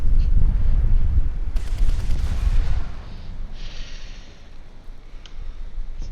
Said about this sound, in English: It's a big ass cannon though